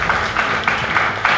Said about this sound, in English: appreciate the organizers by clapping for them